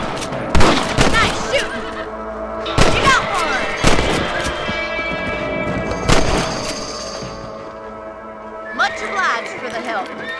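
Rifle shots fired at rabbits in the Red Dead Redemption game, several sharp cracks spaced irregularly and mixed with horse whinnies, game music and voices talking.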